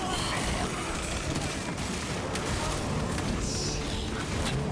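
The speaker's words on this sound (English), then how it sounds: "those are grenades." Dense, continuous explosions and gunfire from grenades in the Space Marine 2 game form a loud, chaotic barrage with overlapping booms, while voices talk over the din.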